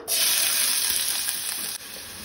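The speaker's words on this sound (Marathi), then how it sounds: "तेल तापले तशें तातून हांव बारीक शिनून घेतलेलो कांदो घालता" Finely chopped onion dropped into hot coconut oil, crackling in a steady, loud, close sizzle with faint stirring scrapes, no voices.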